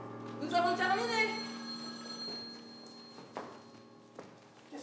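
An old-style telephone bell rings out on a theatre stage during a student play, with a rattling ring that fades, then a few footsteps and taps in a quiet hall.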